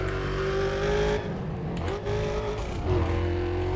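Car engine in Need for Speed: Undercover roaring loudly and steadily, its pitch dipping and climbing through gear changes across the whole stretch, with no talk over it.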